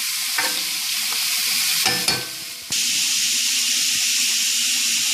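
Chuckwagon beans with chopped sausage simmering in a pot, giving a steady close hiss and sizzle with a few brief stirring clatters near the middle, no talk.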